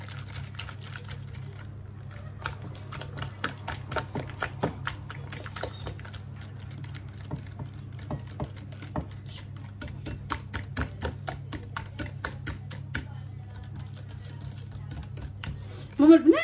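Cream cheese and eggs are stirred together in a bowl for cheesecake cookies, making a quick, uneven stream of light clicking and tapping that runs under someone talking throughout.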